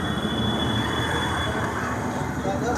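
A small train runs in a park, heard as a loud, continuous rolling rumble with a faint high whine over it, amid outdoor background noise.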